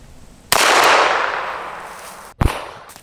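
A Chiappa Rhino .357 revolver fires two loud close shots about two seconds apart, the first with a long echoing decay, the second a sharp crack.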